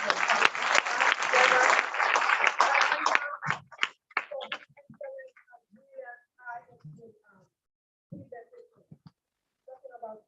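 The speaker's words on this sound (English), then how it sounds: "I think we deserve a more round of applause." Conference audience at a nursing research event applauds in a loud burst of dense clapping for about three seconds, then it breaks off into scattered claps and quiet murmuring voices.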